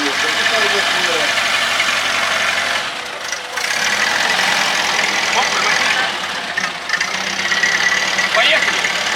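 A historic armoured car's engine runs at a military vehicle rally with a steady mid-range rumble that dips briefly and then recovers. Someone talks over the engine noise throughout.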